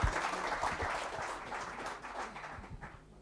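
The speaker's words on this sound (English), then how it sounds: "Let's give our panelists a round of applause." Audience applause after a discussion panel at a business and development event, a steady wash of clapping of moderate loudness with a few sharper claps standing out, lasting the whole stretch and easing slightly toward the end.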